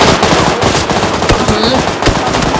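Loud bursts of video game gunfire with rapid shots and sharp cracks, dense and close, in a chaotic firefight.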